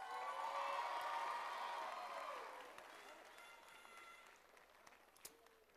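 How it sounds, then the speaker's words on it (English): Applause and cheering from a crowd at a 2021 graduation ceremony for the graduating class, loud at first with whoops mixed in, then fading to a softer scattered clatter over the last few seconds. "can we just give a warm, warm round of applause to the class of"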